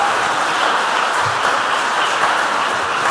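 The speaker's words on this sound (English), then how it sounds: "Please, a big round of applause to our contestants." Audience clapping for junior high school quiz contestants at the end of a round, a dense, fairly loud, continuous patter of many hands with no talking.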